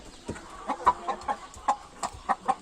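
A hen clucks in a coop in a short burst of repeated, fairly close calls with a steady rhythm, and no one speaks over them.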